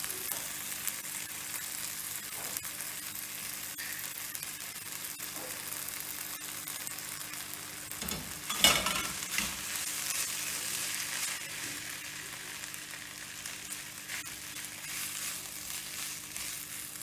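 Mashed potato being stirred into a hot spiced tempering in a pan for vada pav filling, with a steady close sizzle and a louder burst of scraping and stirring midway.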